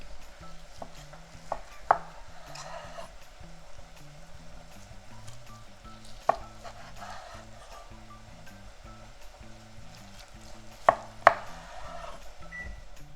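A knife slicing through pork loin on a cutting board, with slow, sparse cuts marked by a few sharp knocks over a low steady background hum.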